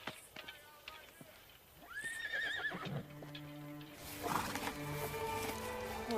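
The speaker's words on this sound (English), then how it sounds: "Horse." A horse neighs with a rising, wavering whinny, followed by more neighing and clip-clop hoof sounds, with voices talking over the scene.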